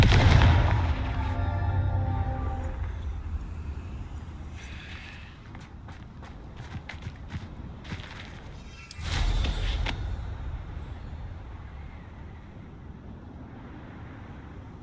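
A Confringo blasting spell explodes in the Hogwarts Legacy game, with a loud burst at the start, scattered sharp cracks through the middle and a second heavy blast near the end, amid ambient game noise.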